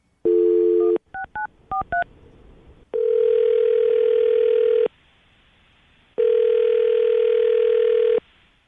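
A steady telephone tone sounds, then a quick series of dialing beeps, followed by two long sustained tones with pauses between them, clear and close.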